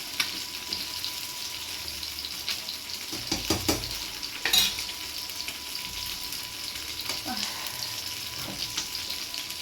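Hot oil sizzles steadily in a pan of frying fish while a ladle scrapes and clatters against it a few times.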